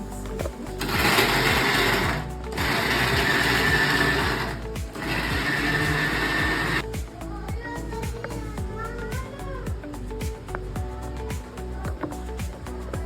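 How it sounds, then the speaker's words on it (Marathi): A kitchen mixer grinder blends a gravy mixture in short bursts, whirring loudly for a few seconds at a time with brief pauses between, then gives way to quieter background noise. "मिक्सरच्या भांड्यामध्ये काढून घेणार आहोत. सगळ्याचीच मी ग्रेव्ही बनवणार आहे. बोलले होते आपण हे मिश्रण वाटून घेणार आहोत."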